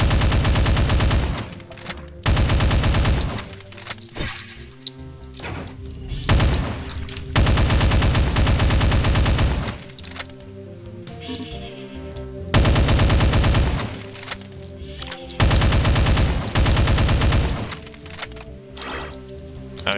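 Rapid chaingun bursts in Heretic running the Complex Doom mod, loud repeated stretches of fast gunfire separated by short gaps, over a busy game soundtrack.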